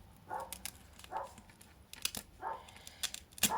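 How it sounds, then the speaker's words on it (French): A small female dog indoors at home barks at people passing outside, giving several faint, distant yips spread over a few seconds. "Désolée si vous entendez ma chienne aboyer encore."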